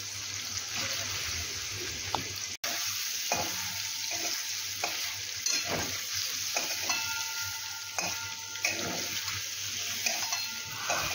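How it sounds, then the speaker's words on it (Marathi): Paneer cubes fry lightly in oil in a pan for shahi paneer, giving a continuous close sizzle with repeated spatula scrapes and occasional metallic clinks of utensils, no talking. "इथे मी हे पनीर थोडेसे हलकेसे या तेलामध्ये फ्राय करून घेतले आहे"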